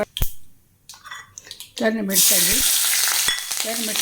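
Curry leaves and urad dal hit hot oil with a sudden burst of crackling sizzle that continues loudly, while a voice talks over the frying.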